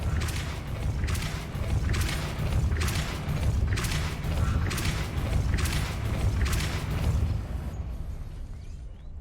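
Depulso force spell cast in Hogwarts Legacy, a series of repeated whooshing bursts with a low rumbling bed, several evenly spaced blasts in succession, loud and without speech.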